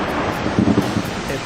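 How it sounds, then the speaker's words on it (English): A short burst of deep, rumbling thunder from a lightning strike, loud and broad, with a brief swell in the middle and no voices. "Electrically charged clouds release their charge in an explosive flash."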